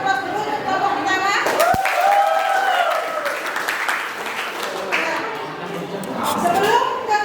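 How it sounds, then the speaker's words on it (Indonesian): Classroom students applauding the first group before their presentation, a sustained wash of clapping mixed with chatter and voices throughout. "Berikan aplaus dulu untuk kelompok pertama"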